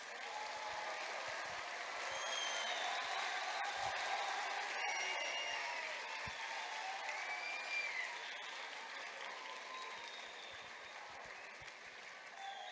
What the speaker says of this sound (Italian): un bel applauso agli insegnanti